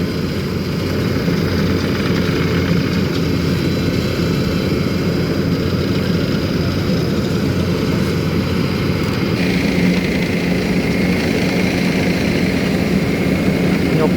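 A road roller works on a road surface in Laos while its engine rumbles steadily and loudly at close range, a continuous low drone with a slight change in tone partway through.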